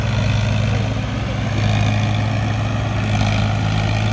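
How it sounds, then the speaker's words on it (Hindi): A Powertrac Euro 47 tractor pulling a fully loaded trolley up a slope gives a steady, heavy, low engine drone, close and continuous, with no talk over it. "power track euro 47 full loading हो चुका है और अभी आ रहा है ट्रैक्टर"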